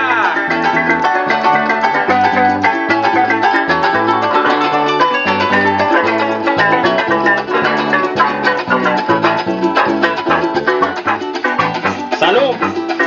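Venezuelan folk music led by harp at a lively live event with dancers, playing fast, dense plucked runs over a steady bass pulse, loud and continuous throughout.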